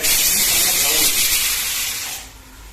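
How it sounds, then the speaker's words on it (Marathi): A loud, close rush of hissing steam from a pressure cooker cooking pav bhaji vegetables, holding steady for about two seconds, then fading and tapering off. "कुकर आपलं काम करतोय"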